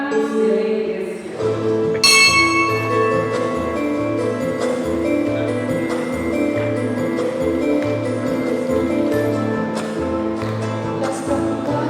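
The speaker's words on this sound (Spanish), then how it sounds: "Las campanas de la iglesia están sonando, anunciando que el año viejo se va." Church bells ringing on New Year's Eve, a sustained layered peal with repeated strikes and long resonant ringing tones, loud and continuous throughout.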